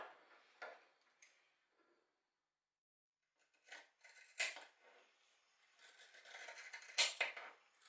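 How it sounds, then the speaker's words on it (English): Pinking shears trimming the sewn fabric edge of a handmade bookmark give a series of quiet, crisp crunching snips in irregular bursts, with short pauses between cuts. "trim this edge with the pinking shears just to neaten it off"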